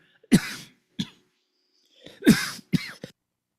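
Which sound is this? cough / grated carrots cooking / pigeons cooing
cough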